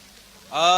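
Rain falls on a street during the Pune pilgrimage procession, rising suddenly from a quiet hush into a steady, close hiss for the last moments.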